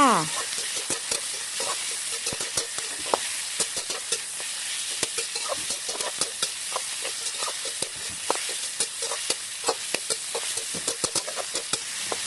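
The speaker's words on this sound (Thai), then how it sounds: "ใส่หมูสามชั้นลงไป จากนั้นก็ผัดต่อค่ะ" Pork belly stir-fried in a pan hisses and sizzles loudly and steadily, broken by frequent quick scraping and tapping strokes of a spatula.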